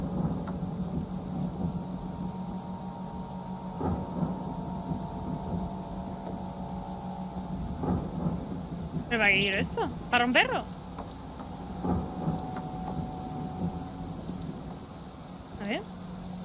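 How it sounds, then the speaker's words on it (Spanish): Rain and thunder from the horror video game Kraven Manor, steady rainfall hiss with low rumbling thunder rolls, while a player talks over it with a few sharp exclamations. "Pensaba que era que habíais puesto un sonido vosotros de lluvia."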